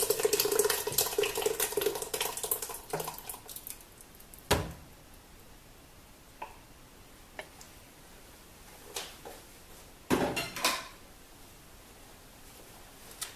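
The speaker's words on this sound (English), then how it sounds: "take the pulsed tomatoes and put that in" Pulsed tomatoes are poured into a pot for a red house sauce (gravy), a thick, sloppy pour for about three seconds, followed by quiet with a few sharp clanks and taps.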